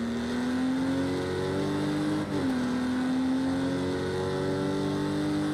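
A race car engine in a racing video game, held at high, steady revs in a sustained drone. The pitch dips briefly midway as it shifts, then climbs again, loud and continuous with no talk.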